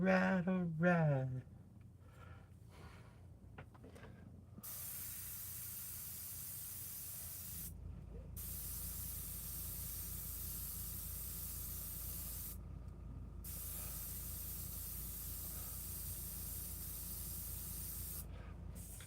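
Aerosol can of violet spray paint hissing in a long steady burst, with a couple of short pauses, close and loud after a brief spoken moment at the start.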